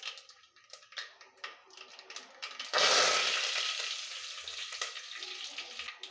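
Curry leaves and whole spices hit hot oil for a Kathiyawadi green masala khichdi, a loud sudden sizzle bursting up midway after light clinking, then hissing steadily and slowly fading.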